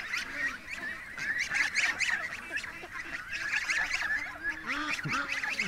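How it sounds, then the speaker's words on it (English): A flock of geese honks continuously nearby outdoors, with many overlapping nasal calls in a busy, steady chorus throughout, and no voices. "Hello, Goose."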